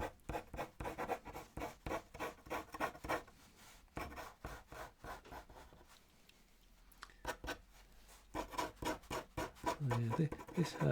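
A thin pen nib scratches across paper while sketching hair, making fast, rhythmic, close-up strokes with brief pauses between bursts of scratching.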